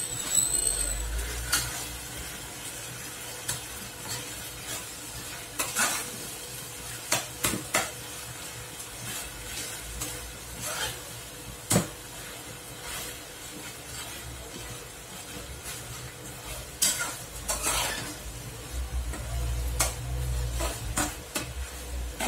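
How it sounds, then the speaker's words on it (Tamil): Tomatoes sautéed and stirred in a pan for vegetable kurma, soft sizzling with intermittent clinks and scrapes of a spoon against the pan, scattered irregularly and fairly quiet with no talking. "நல்லா தக்காளியை வணக்கி விட்டுக்கணும்."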